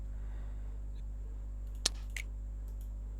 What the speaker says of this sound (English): so I have a snap and a clap.